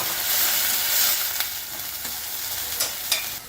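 Curry leaves and mustard seeds sizzling in hot oil in a pan, a bright continuous frying hiss with a few sharp crackles and pops, close and loud with no talking.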